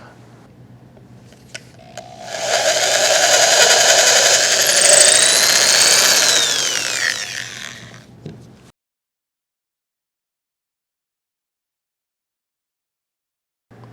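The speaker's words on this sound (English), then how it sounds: "come back with a 1/8 inch drill bit and drill all the way through the project" A power drill with a 1/8 inch bit bores all the way through a wooden project held over a vise, a loud steady whine that rises, holds for several seconds, then winds down into silence.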